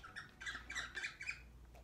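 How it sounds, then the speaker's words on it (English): A pet bird squawks indoors in a series of harsh, nasal calls, about five in quick succession with a final shorter one, fairly close and alone. "You're wondering what that is my bird"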